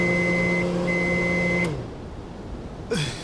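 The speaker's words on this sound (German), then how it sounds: "Was ist denn das für ein krasser Wecker?" An electronic alarm clock beeps out a loud, steady tone in two long bursts, then cuts off abruptly into near silence before a brief noise near the end.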